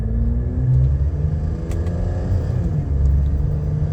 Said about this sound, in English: And we can shift it manually now with these little paddle shifters.